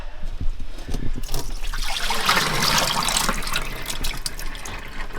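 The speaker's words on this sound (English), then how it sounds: "we're going to pour the water off" Water is poured off from a bowl into a sink, a steady rushing splash building and then trickling, close and fairly loud with no talking.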